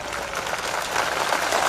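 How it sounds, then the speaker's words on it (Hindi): A crowd at a political rally claps steadily to welcome a guest, a dense, continuous patter of applause that builds slightly, with no talk over it. "जोरदार ताली बजा के स्वागत करिए"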